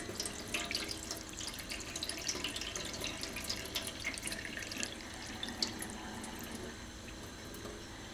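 Water trickles and splashes as rinse water is poured off fish roe from the top of a deep bowl, a close, continuous, gently dripping flow with no talk.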